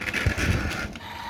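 A steady whirring, clattering mechanical hum from a motion-activated Star Wars Jawa Sandcrawler toy driving along, close and fairly loud with no talking.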